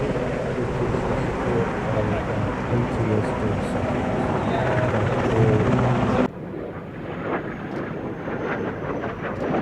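A helicopter flies at the Midlands Air Festival 2025, producing a loud, broad rotor roar that runs steadily and then drops abruptly to a quieter, thinner rumble partway through.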